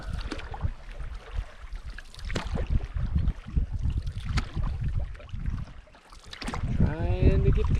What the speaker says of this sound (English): We're paddling pretty hard.